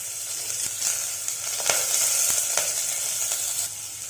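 Chopped onion and a sprig of curry leaves sizzle steadily in hot oil in a pan, with a few sharp crackles and pops breaking through, all close and free of talk.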